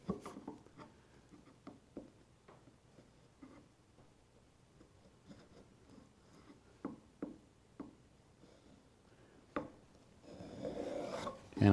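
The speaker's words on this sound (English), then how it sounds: "And then if I have a little dowel, I can do a test cut." Spokeshave taking a test cut on a small wooden dowel, faint repeated rasping strokes in an uneven rhythm, growing louder near the end.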